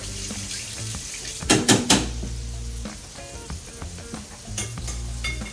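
Shrimp sauteing quickly in a pan for shrimp scampi makes a close, steady sizzle, with a few louder clattery bursts of stirring near the middle and no talk.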